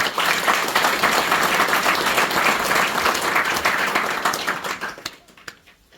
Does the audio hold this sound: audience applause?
yes